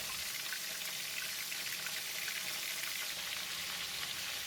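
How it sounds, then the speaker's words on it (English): Prawns fry in a pan of garlic butter with a steady, close, hissing sizzle, fairly quiet and unbroken for a few seconds with no talking. "Since I have 10 pieces of prawns, I will fry them in 2 batches."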